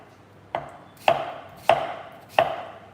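A knife chops through potatoes and onions on a board in four crisp, evenly spaced strikes about half a second apart, close and clear with no talking.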